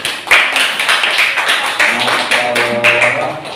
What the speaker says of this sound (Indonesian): Tepuk tangan buat Aryo.